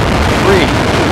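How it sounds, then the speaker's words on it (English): Space Shuttle Discovery's solid rocket boosters ignite at liftoff for the STS-131 launch, a brief, steady loud roar with a faint rising tone, and no talk over it. "Booster ignition and liftoff of Discovery."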